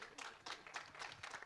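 Audience applause at a film trailer launch event, brief scattered clapping in rapid bursts, fairly faint and short.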